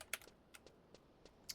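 Faint computer keyboard keys pressed a handful of times in irregular, sharp clicks, with quiet pauses between taps.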